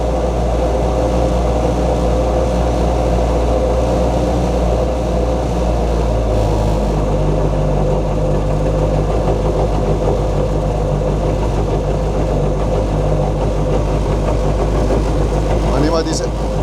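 A Toyota 4AGE engine with individual throttle bodies, fitted in a Lada rally car, runs on a dyno with a steady, loud idle-like drone throughout, holding an even pitch with a slight shift partway through.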